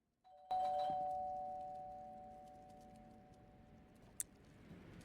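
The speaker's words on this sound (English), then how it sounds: "we wake up to a doorbell ring, increasing the creepiness factor" A doorbell rings in the Fears to Fathom: Woodbury Getaway horror game. A single clear chime rings out in a quiet room and fades slowly, and a short sharp click follows near the end.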